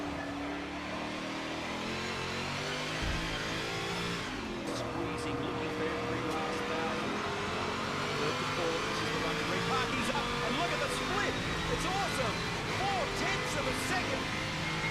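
A race car engine in Forza Motorsport 7 howls continuously through a lap, shifting pitch as it brakes and accelerates, with someone commentating over it throughout.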